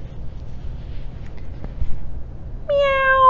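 A person's voice imitates a kitten's meow, a single clear high-pitched mew at the end after a quiet, near-silent stretch.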